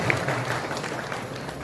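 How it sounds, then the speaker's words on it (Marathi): Audience applause for newly elected Shiv Sena corporators at a Panvel civic felicitation ceremony, a steady dense clapping from a crowd that holds at an even level throughout the short stretch. "एकदा जोरदार टाळ्या वाजवून या साथी शिलेदारांना."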